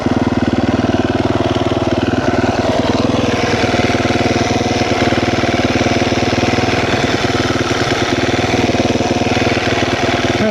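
A KTM 350 dirt bike engine idles high and steady, a loud, close, continuous mechanical drone with a rapid even pulse running unbroken from start to finish, with no talking.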